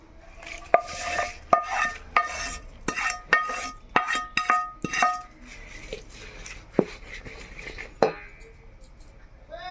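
A spoon clinks and scrapes against a bowl while cooled mango pickle is mixed, a string of sharp metallic taps at an uneven rhythm, close by.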